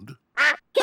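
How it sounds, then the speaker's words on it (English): A cartoon duck in a Peppa Pig episode gives two loud, nasal quacks in quick succession, following a short softer sound, close and clear with no talking over them. "did you know you've got a duck on your head?"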